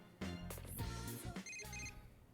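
A phone rings in the Persona 4 Golden video game, a repeated electronic ringtone with bright tonal bursts pulsing for a couple of seconds over soft game music, fairly loud and close, with no talking.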